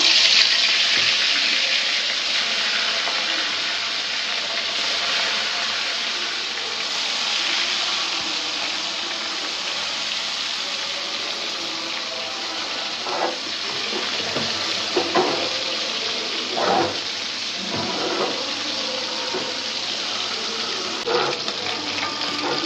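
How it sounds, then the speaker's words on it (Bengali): Small mini fish frying in a hot wok, giving a steady loud hissing sizzle that runs throughout, with occasional crackles and pops rising near the end. "কড়াই গরম হয়ে গেছে, মাছ দিয়ে দিলাম।"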